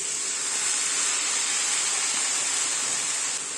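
Baby methi greens stir-fry in a hot pan over a high flame, giving an even, dense hiss that holds steady from start to finish, close and with no voices.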